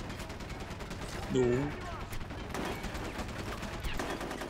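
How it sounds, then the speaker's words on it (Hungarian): Rapid gunfire from a video game plays throughout as a dense, sustained crackle, with a louder burst near the middle; a voice talks briefly over the shooting. "miközben lőtt vagy 300 lövést"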